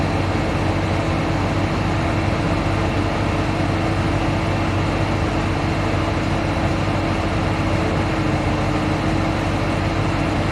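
A tractor's heavy diesel engine runs steadily and loudly at about 840 rpm, a constant low rumble with no clear rise in pitch, close to the listener.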